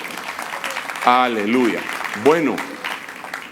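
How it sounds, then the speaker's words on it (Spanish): A church congregation applauds during a prophetic proclamation service, the clapping held low beneath a preacher's loud, emphatic speech. "Denle un aplauso al Rey bendito."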